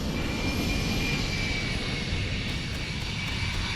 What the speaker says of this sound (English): Just a Harrier jet over your fucking campsite.